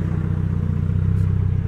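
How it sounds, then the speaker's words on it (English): An old VW MK2 GTI engine idles roughly with a steady, loud low mechanical hum and a fast pulsing throb, close by and alone. "The idle is doing funky stuff."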